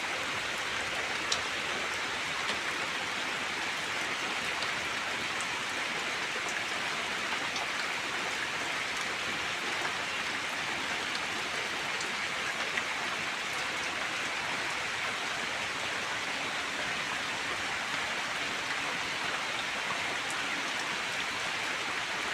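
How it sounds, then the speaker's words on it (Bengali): Rain falls steadily outdoors, a dense, even patter of drops on surfaces that continues unbroken at moderate volume, with no voices. "বৃষ্টি পড়েই যাচ্ছে।"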